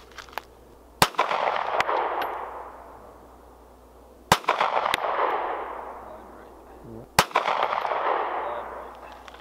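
Three sharp outdoor shots from a Taurus Spectrum pocket pistol with a short barrel, fired at a 100-yard target, each a loud crack followed by a long ringing echo that fades over a few seconds.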